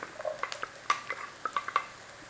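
Garlic and onions fry in a pan, giving soft sizzling broken by a series of sharp stirring scrapes and clinks, close and fairly quiet with no talking.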